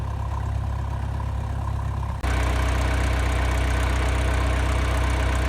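Tractor engine idling close by on muddy farm ground, a steady loud rumble that shifts to a fuller, louder drone partway through as the engine note changes, with no voices.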